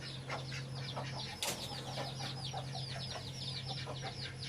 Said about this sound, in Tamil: கின்னி கோழி